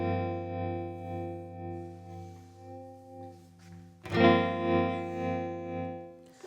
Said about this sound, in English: let you hear the basic tremolo sound that we've got running through this